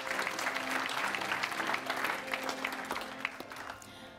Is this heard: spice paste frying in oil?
no